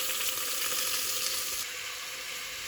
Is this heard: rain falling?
no